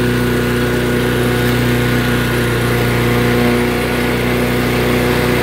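Craftsman lawn mower with a 160cc engine running steadily at constant speed, a loud, close, unbroken droning hum with no talk over it.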